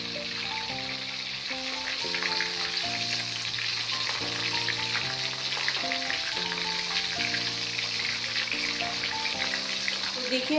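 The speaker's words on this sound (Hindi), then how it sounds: "अब हम इसको डबल फ्राई करेंगे" Chicken legs double frying in hot oil give off a constant, dense sizzle that holds steady throughout, close and loud, with gentle background music playing underneath.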